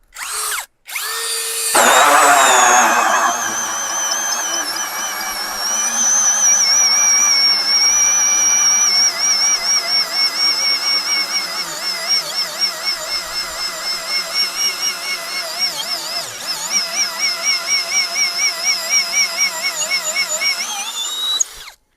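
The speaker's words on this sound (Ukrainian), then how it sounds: "і попробуємо зробити отвір в досці" An ELTOS DA-16DFR cordless brushless drill bores a hole through a wooden board in first gear, a loud close motor whine that strains and wavers rhythmically as the bit bites into the wood, then stops.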